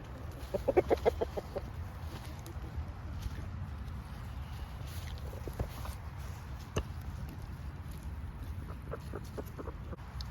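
Several quick chicken clucks early on, then scattered softer clucks and calls over a low steady rumble, no talking.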